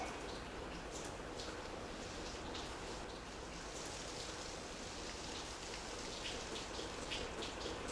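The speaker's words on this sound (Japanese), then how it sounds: "雨かな。" Steady rain falls in a continuous, even hiss with faint patter of drops on surfaces, soft and distant, with no voices over it.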